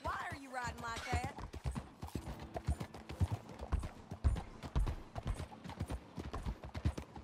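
Horse hooves in Red Dead Redemption 2 clop in a steady, fairly close rhythm while the horse is ridden, under game voices and a brief whinny-like sound near the start.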